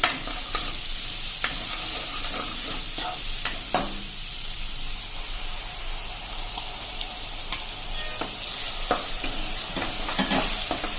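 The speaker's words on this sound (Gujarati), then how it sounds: "એને પણ આપણે એકદમ સરસ એની કચાશ દૂર થાય ત્યાં સુધી તેલમાં સાંતળી લેશું." Onion paste from three medium onions sautéing and being stirred in hot oil for a Punjabi potato-capsicum curry, a steady broadband sizzle with scattered soft scrapes and taps of the spoon, close and continuous with no talking.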